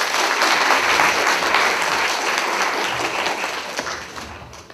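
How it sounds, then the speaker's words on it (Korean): Full, sustained applause from a university audience at a 2013 Daejin University career concert as a speaker is welcomed, a dense steady wash of many hands that fades slightly toward the end, with no one speaking. "큰 박수 부탁드립니다"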